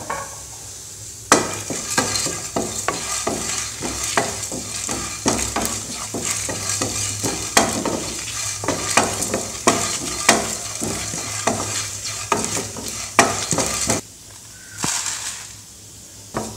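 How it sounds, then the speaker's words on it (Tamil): Garlic cloves, ginger and dried red chillies are roasted together in a pan while making rasam, with a steady sizzle under frequent metal spoon scrapes and clinks, close and clear, without speech. "பூண்டு பல் அளவுக்கு ஒரு 4 துண்டு, இஞ்சி 2 வரமிளகாய். இதெல்லாம் ஒன்றா போட்டு இதை வறுத்துக்க போகிறோம்."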